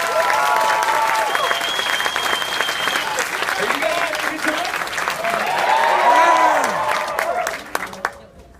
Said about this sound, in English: Let's hear another round of applause for that.